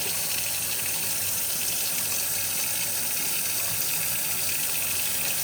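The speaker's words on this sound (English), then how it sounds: "I just turn the hot on, and then the hot water comes out of here" Hot water runs steadily from a sink tap used to test a water heater, a continuous close rushing hiss with no talking.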